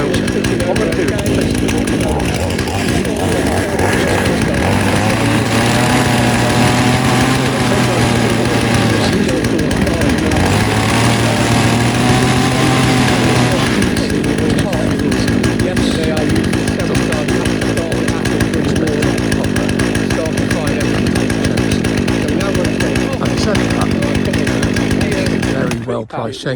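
A Hyundai HYC6200X 62cc chainsaw with a 20-inch bar runs loud and close, steady idling broken by two rising revs in the middle before settling back to a rough drone.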